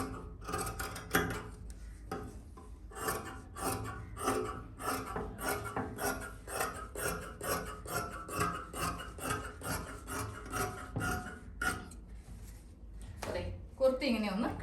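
Scissors slice through nighty fabric to cut out a kurti, a steady run of soft rasping snips close by, with a voice talking over the cutting.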